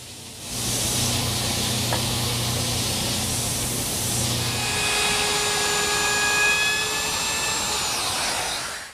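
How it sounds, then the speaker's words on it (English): An oscillating edge sander smooths the sawn taper of a wooden leg for a Mission-style desk. A steady motor whine and hiss starts up, and the pitch of the whine shifts partway through as the wood is worked. "I'm going to use my oscillating edge sander"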